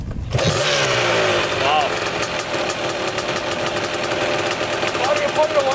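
A Honda TRX250R ATV engine fires up abruptly and runs at a loud, buzzy, uneven idle close by, with people talking and exclaiming over it.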